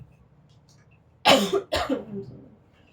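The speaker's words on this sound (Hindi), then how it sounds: "खांसी आ रहा है।" Two sharp, harsh coughs in quick succession, close and loud, against a quiet background.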